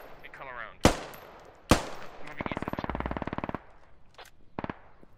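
Gunfire in the video game SquadOps: two sharp single shots, then a fast automatic burst of about a dozen rounds, followed by a few quieter shots, with a voice heard faintly at the start.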